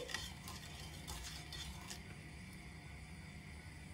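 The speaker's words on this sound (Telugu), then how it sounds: "ఇలా మీరు స్పూన్తో తిప్పుకుంటూ ఉంటే పంచదార త్వరగా కరిగిపోతుంది." A spoon stirs melting sugar in a pan over a high flame, with a few faint scraping strokes and light clinks near the start, then a soft, steady low sizzle.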